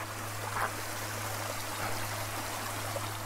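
Water from a small forest creek flows with a steady, continuous rush and faint trickling, close to the microphone and with no voices over it.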